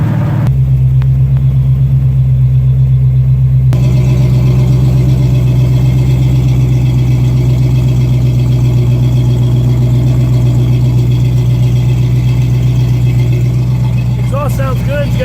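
A 1963 Chevy C-10 shortbox truck fitted with headers and a 3-inch exhaust without tailpipes idles in a steady, loud, low rumble that continues unbroken throughout.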